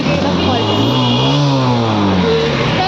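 A push-started vehicle engine runs steadily and loudly up close, its pitch rising and falling slightly like light revving, with a voice talking over it.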